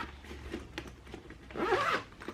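A zipper closes on a food delivery backpack: quiet short tugs, then a longer, louder zip pull near the end, up close with no talking.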